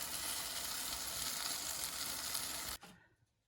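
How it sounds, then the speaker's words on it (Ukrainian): Bell pepper sizzles in an oven with a loud, steady crackling hiss that cuts off abruptly near the end, leaving a fading quiet. "В духовці шкварчить перець."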